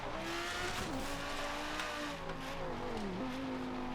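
An Audi skids in Forza Horizon 3 on a twisting rainforest road, engine droning steadily with pitch shifts as the tires slide, continuous and close, with no talking.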